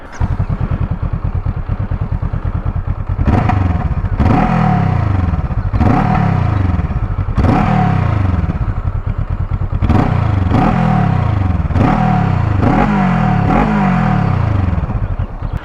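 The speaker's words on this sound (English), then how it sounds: "this exhaust is kind of nice, isn't it?" A Honda CL500 Scrambler with an aftermarket exhaust burbles at a deep idle, punctuated by a series of sharp throttle blips that rise and fall back, close and loud.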